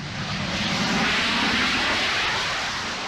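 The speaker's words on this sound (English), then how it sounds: "This jump jet demonstrates its new ski jump launch technique" Harrier vertical takeoff attack jump jet makes a ski jump launch at the 1978 Farnborough demonstration, a loud, sustained jet engine roar and rushing hiss that holds steady throughout.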